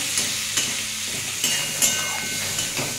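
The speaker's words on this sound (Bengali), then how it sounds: "আমি এটা ভালো করে একটু ভেজে নেব পেঁয়াজ আর টমেটোটা" Onion and tomato fry with turmeric in a pan for a spicy bitter gourd curry, giving a steady loud hiss broken by a few sharp stirring clinks close by.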